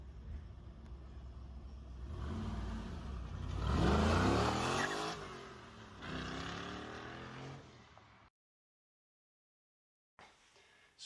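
A Porsche 911 fitted with an LS engine swap, running a high-flow cat and the factory unmodified Porsche exhaust, accelerates while driving; the engine note rises and falls for about eight seconds, then cuts to silence before a brief return.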